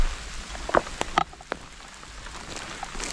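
Heavy, fast rain falling outdoors in the evening near an old rock wall, a soft steady patter with a few sharper drops and splashes standing out, no voices.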